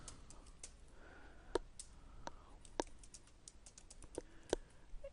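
Someone types on a computer keyboard, a quiet, irregular run of light key clicks with a few sharper taps standing out, close and alone.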